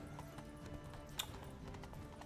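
Steady clip-clop of a horse's hooves while riding through the countryside in The Witcher 3: Wild Hunt, an even rhythmic trot with a brief sharp clack partway through, moderately quiet under game ambience.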